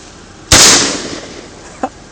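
A single sharp crack from a .380 pistol fired outdoors on a Kansas farm, loud and close, trailing off in a short echo, followed by a faint click.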